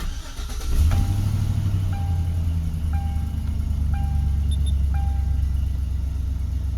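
A 2004 Chevy Silverado truck engine cranks, catches and settles into a steady loud idle, with a faint regular chime beeping about once a second over the running motor.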